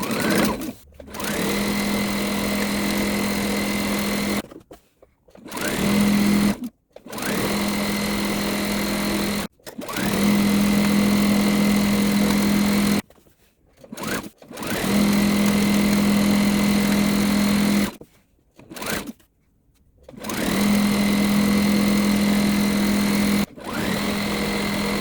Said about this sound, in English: So I'm just going to do 1 straight sew all the way through.